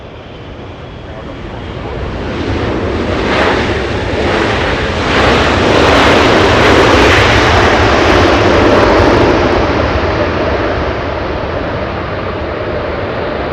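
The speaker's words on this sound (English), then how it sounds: "This one, the third one, flying in from Tokyo Haneda." A Boeing 777 jet arriving at Los Angeles International Airport from Tokyo Haneda on landing approach, its engine roar swelling loud and broad, peaking midway, then holding as it passes; no voices are heard.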